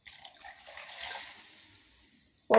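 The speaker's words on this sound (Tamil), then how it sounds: "இப்போ இன்னும் கொஞ்சம் தண்ணி ஊற்றிக்கலாங்க ஃப்ரெண்ட்ஸ்." Water is poured into a pot of lemon rasam, a soft splashing pour that rises and fades over about two seconds, followed by a sudden loud knock at the end.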